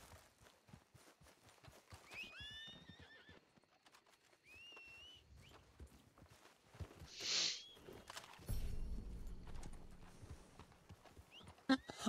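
Red Dead roleplay game audio set in 1901 with horse hooves clopping in bursts, a horse whinnying, and scattered effects and chimes layered over a busy background.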